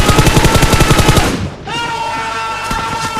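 Rapid automatic gunfire in Battlegrounds Mobile India, a fast steady burst of shots for about a second and a half, then a break and lighter, more distant shooting with game effects.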